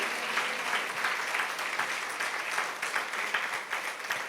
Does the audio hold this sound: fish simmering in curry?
no